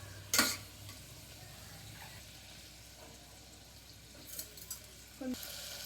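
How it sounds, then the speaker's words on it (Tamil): Rice upma ingredients are stirred and sautéed in a pan: a faint background sizzle with a few sharp scraping stirs near the start and the end. "இப்போ நல்லா மிக்ஸ் பண்ணி கலரி வச்சுக்கணும். வதக்கிறப்போ இப்போ கொஞ்சம் உப்பு போட்டால் அது சீக்கிரமாக ஃபாஸ்ட்டாக வதக்கிடும்."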